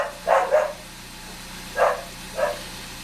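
A dog barks in two quick pairs with a pause between, moderately close, over a low steady background hum.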